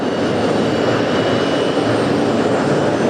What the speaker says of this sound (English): Another plane that I've flown many times.